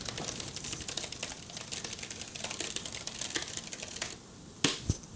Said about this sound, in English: We've got the Keytron mechanical keyboard, which sounds amazing.